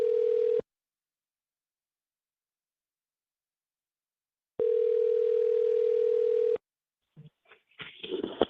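A steady electronic telephone tone sounds in two long bursts separated by silence, followed by brief clicks and rustling near the end.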